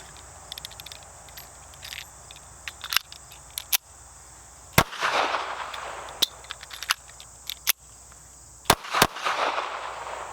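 Taurus Spectrum pistol firing with failures to extract, sharp loud shots spaced irregularly over about ten seconds, some single and some in quick pairs, each with a brief ringing tail.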